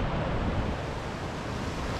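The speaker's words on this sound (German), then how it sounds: "fließt der Fluss PT-Elven zwischen Felsen und über Klippen" Rushing water of the Pite River pouring between rocks and over cliffs at Trollforsen rapids in Sweden, a steady dense roar close by with no talking.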